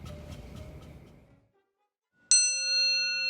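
Bell struck once after a muffled, fading clatter and a short silence, ringing as a clear, bright metallic tone with several sustained overtones that hang and shimmer without decaying much, with no voices.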